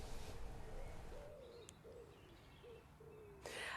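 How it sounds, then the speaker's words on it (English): Soft bird calls and short chirps in quiet countryside at Crowhurst, Surrey, with a low rumble underneath and a brief burst of noise near the end. "Sara, somewhere where there's some beautiful birdsong."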